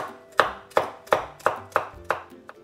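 Fresh parsley being chopped with a knife: about seven crisp, evenly spaced strikes close by, each a sharp thud followed by a quick decay, with no talking.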